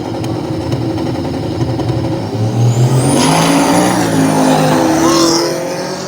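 A white Camaro drag racing down the near lane at around 130 mph, its engine roaring loudly and steadily as it accelerates and passes with a rising whine, close and dominant with no talking.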